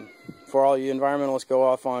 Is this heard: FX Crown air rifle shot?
no